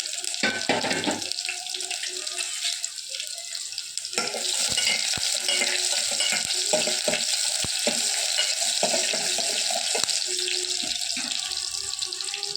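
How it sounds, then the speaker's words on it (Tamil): Small shallots sizzle with curry leaves in a hot pan, a steady bright frying hiss broken by a burst of sizzle as they go in and scattered scraping knocks from stirring, with no talk. "ஒரு 6-7 சின்ன வெங்காயத்தை போட்டு வதக்கணும்."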